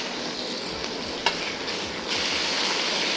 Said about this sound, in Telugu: సో మనం కొద్దిగా ఉప్పేసి ఉడకబెట్టిన కాకరకాయ ముక్కలన్నీ తాలింపులో వేస్తాము